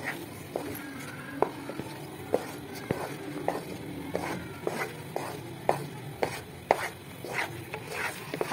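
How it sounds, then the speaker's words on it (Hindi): A spoon scrapes and taps against a pan while atta halwa cooks over a medium-low flame, giving faint, irregular clicks and scrapes over a soft background hiss. "आपने इसमें मुसलसल चम्मच चलाते रहना है"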